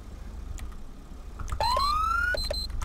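A police car siren in GTA V with the LSPDFR mod starts after a quiet moment with a few short yelps, then a rising electronic wail, followed by more quick yelp bursts, loud and close.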